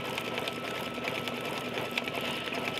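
An embroidery machine stitches pink thread into furry fleece covered with a topper, giving a steady, fast, close mechanical whirring and rattling throughout, with no talk.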